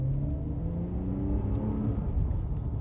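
A 2010 Lotus Evora 2+2 with a six-speed gearbox, heard from inside as the engine drones and rumbles steadily, its pitch rising and stepping as gears change, loud and continuous with no talking.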